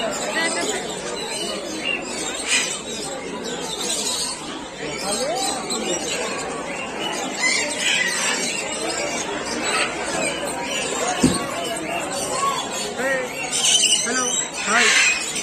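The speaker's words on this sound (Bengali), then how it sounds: "ভেতরটা প্রচুর ভিড় হয়ে গেছে বলে তাই জন্য পাখিগুলো খুব চেল্লাচ্ছে।" A crowded bird show fills the air with loud, dense squawking and chattering from many birds, layered over a continuous murmur of people talking nearby.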